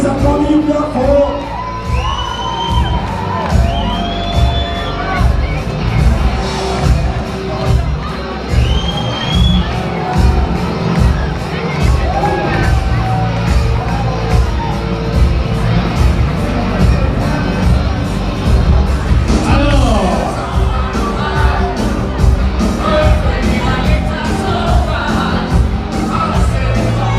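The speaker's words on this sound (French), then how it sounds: "Voilà, et on peut les applaudir bien fort." A large festival audience at a mask and costume contest prize-giving keeps up loud, continuous cheering, whooping and shouting over a pounding music beat, with scattered bangs and the occasional rising yell throughout.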